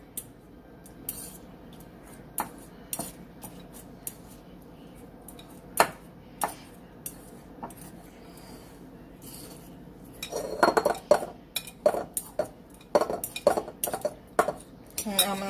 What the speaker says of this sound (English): Finish mashing them, then I'll be back.